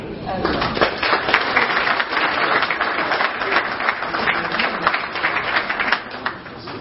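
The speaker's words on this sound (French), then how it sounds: "Merci de vos applaudissements." Applause from the audience at a Rotary Club collar handover ceremony in Kinshasa, many hands clapping in a continuous dense wash with voices mixed in, steady across the whole stretch.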